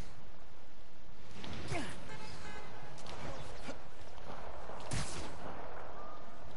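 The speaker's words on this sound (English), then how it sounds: "Oh, I hear gunshots." Scattered gunshots crack in a few separate bursts over loud, constant background noise, with the shots sounding fairly distant, in Spider-Man: Miles Morales.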